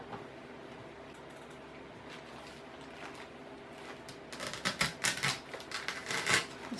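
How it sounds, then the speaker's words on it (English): Stems being cut for a cemetery floral arrangement set in hard styrofoam: after a quiet stretch, a close cluster of crisp snipping and rustling clicks, no one talking. "I'm going to cut 2 more flowers."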